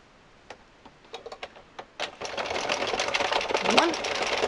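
An Addi knitting machine cranked through rows of yarn: a few separate clicks at first, then a steady, busy rattling and clacking that keeps going, fairly close and loud.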